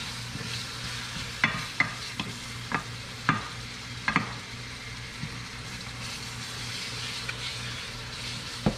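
Ground meat frying in a pan for shepherd's pie, a steady low sizzle with scattered sharper stirring scrapes and clicks, fairly close and moderately loud, no talking.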